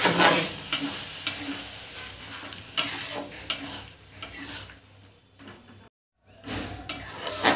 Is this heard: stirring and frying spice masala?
yes